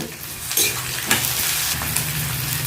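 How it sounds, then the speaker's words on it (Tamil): Garlic and onion sauté in a hot pan with fenugreek, cumin and mustard seeds for a garlic kuzhambu, giving a steady close sizzle broken by a few soft scrapes of stirring, with no voices. "பூண்டையும் போட்டு நல்லா வதக்கலாம்"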